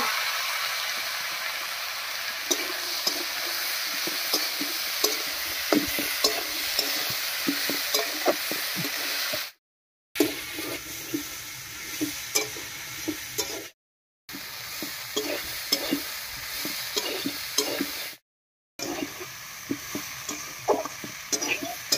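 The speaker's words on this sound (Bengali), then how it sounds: "মশলার সঙ্গে মটর আর আলু খুব ভালো করে মিশিয়ে নিয়েছি।" Boiled peas and potatoes frying with spices, a continuous loud sizzle broken by repeated close scrapes and knocks of a spoon stirring the pan, interrupted by a few brief silent gaps.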